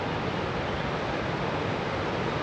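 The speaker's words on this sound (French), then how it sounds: "T'entends le bruit de la cascade" Waterfall and water flowing beneath a bridge in Brantôme, Dordogne, a dense continuous roar of rushing water filling the scene, steady and fairly loud with no talk.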